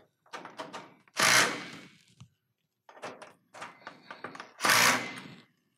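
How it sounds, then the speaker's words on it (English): Bolts being tightened on a metal roof bracket clamp for a snow-guard installation: two clusters of quick ratcheting clicks, each ending in a louder, longer rasping burst, close and alone. "put my front bolts in, and tighten them down"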